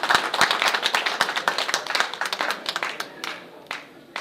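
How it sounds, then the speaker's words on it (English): Scattered audience applause at a board of directors debate, distinct individual handclaps at moderate volume that thin out and taper toward the end. "May we give them another round of applause for being here."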